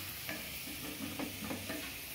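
Onion tempering (baghar) browning in hot oil for dal and brinjal salan, a soft continuous sizzle with a few light stirring scrapes, faint and close, no talking.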